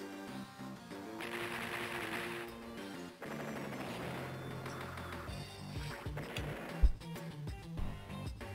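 A unit fires an attack in the game Advance Wars 2, a chiptune melody running continuously with sharp percussive firing bursts near the end, all at moderate volume with no voice.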